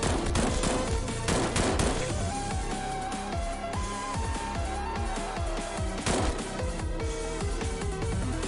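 Submachine gun fire in the Xpiratez video game, dense rapid bursts of gunshots crackling one after another across the whole stretch, loud and close, mixed with sharp impacts and no talk.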